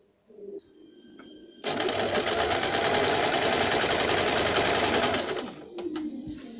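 A sewing machine runs a steady, loud, close whirring burst of about four seconds while double-stitching a jumpsuit, with quieter handling clicks before and after.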